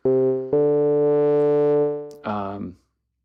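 A smooth synthesizer sine wave tone run through a filter holds steady and bright, then cuts to a shorter buzzier tone that fades out into silence.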